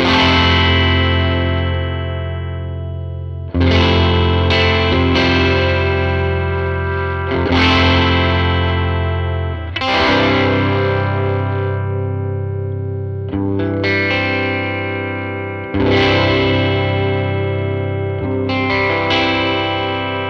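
Fender LTD 70th Anniversary electric guitar played through a vintage Fender amp, with chords and short riffs struck repeatedly in a steady rhythm, loud and close with chorus-like shimmer, alone with no talk.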